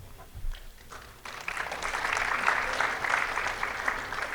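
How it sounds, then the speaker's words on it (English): Audience applause at a conference session as a presenter is introduced, a steady wash of clapping rising after a brief quiet start, moderately distant. "Hold your applause."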